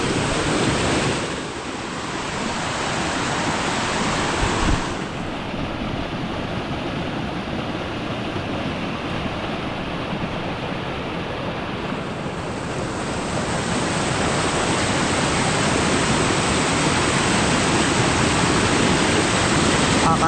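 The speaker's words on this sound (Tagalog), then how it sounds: "Yung sounds ng tubig." Steady broadband rush of flowing water at a refreshing outdoor spot, loud and continuous throughout with no talking, its texture shifting slightly partway through as if the water or wind briefly changes.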